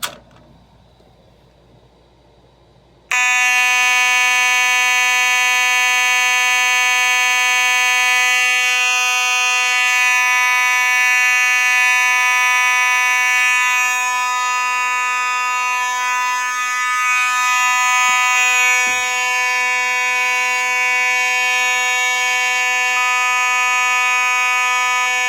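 A Simplex 4100 fire alarm system sounds on continuous, a loud, steady electronic horn tone with a rich buzzing edge that starts after a few seconds of near silence and holds unbroken to the end.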